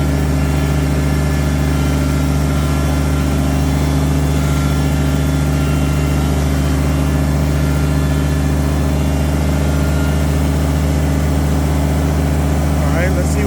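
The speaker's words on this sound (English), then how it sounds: "that's what the tractor is for" A Kubota tractor engine runs steadily in a forest, a loud continuous low droning idle with a constant hum throughout and no breaks.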